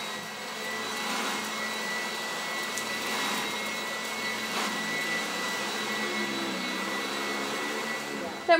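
An old vacuum cleaner runs steadily and fairly loud throughout, a continuous motor whine and airflow roar with a brief knock at the very end.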